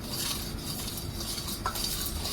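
Solkadi being stirred with salt in a bowl, a spoon scraping and clinking steadily against the sides for a couple of seconds, close and fairly soft, with no talking.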